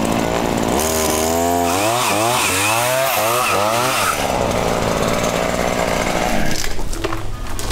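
A Ryobi chainsaw engine roars up close, surging through repeated rising and falling revs before dropping into a rougher, uneven idle, loud throughout.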